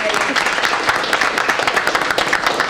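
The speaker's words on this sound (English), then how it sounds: "So let's give them another round of applause" An audience at a school board meeting applauds, a steady wash of dense clapping throughout the short clip.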